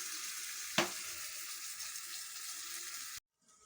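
Fish oil and eggplant frying in a covered pan, a steady dense sizzle with one sharp crackle early on, then cut off abruptly near the end to near silence.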